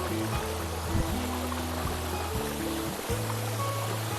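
A stream flows from a hidden waterfall in the Morni Hills near Chandigarh, a soft, continuous rush of water at moderate distance, with a steady low hum running beneath it.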